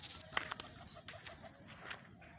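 Domestic country pigeons kept at a house make soft, faint cooing and fluttering sounds against a quiet, low background.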